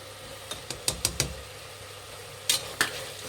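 Spices being stirred into fried lima beans in a pan, a handful of sharp spoon clicks and scrapes against the metal in two short clusters over a quiet background.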